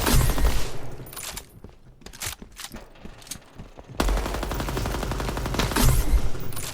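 Dense, close gunfire in the Deadrop game: rapid bursts and single shots, a sparser stretch in the middle, then a sustained loud volley.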